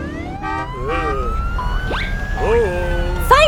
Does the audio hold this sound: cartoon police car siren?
yes